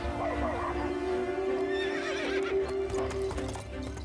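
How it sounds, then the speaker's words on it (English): A horse clip-clops steadily with a neigh rising over the hoofbeats, a rider galloping off into a forest from a Russian royal courtyard, loud and continuous with music underneath. "mounted a horse, and rode off into the forest on his own."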